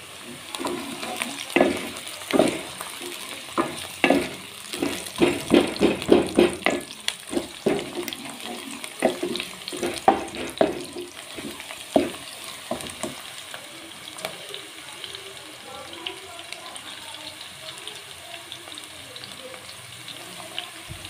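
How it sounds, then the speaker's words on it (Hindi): Garlic and onion fry in a pan as they brown, giving a steady sizzle broken by frequent scraping and clattering from stirring, close by, with the stirring easing off toward the end. "लहसुन को इतना फ्राई करेंगे कि ये हमारा लहसुन और प्याज दोनों ब्राउन हो जाए"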